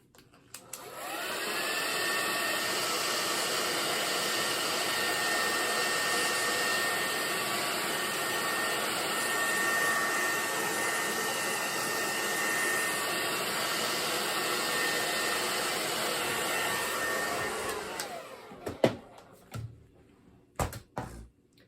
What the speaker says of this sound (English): Maybe I better blow dry everything just to make sure.